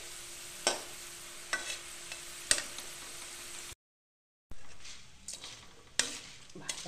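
Dal mut fries in oil with a soft continuous sizzle, punctuated by sharp metallic clicks of a utensil at irregular intervals and interrupted by a short stretch of silence partway through, close and without speech.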